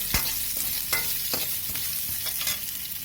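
Dried red chillies frying in hot oil in a pan, a continuous crackling sizzle broken by several sharp stirring scrapes at an irregular rhythm.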